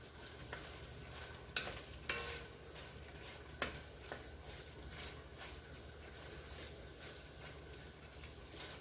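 Chicken pieces fry in butter in a pot, a soft continuous sizzle broken by several sharp scrapes and clinks as a utensil stirs them, close and fairly quiet with no talking.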